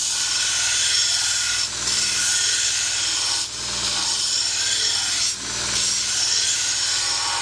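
A knife's single bevel being ground on a coarse-grit Cubitron belt, a loud continuous abrasive hiss with brief dips as the blade is lifted and reapplied, three short pauses across the pass.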